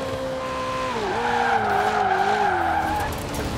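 A car drifting in Forza Horizon 4 lets out a loud, sustained tire squeal that bends and wavers in pitch over a steady engine drone, with no voices.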